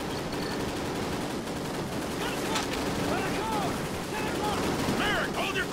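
Call of Duty: Ghosts gunfire, a dense, continuous rattle of automatic weapons and shots under a loud battlefield din, with voices calling out over it.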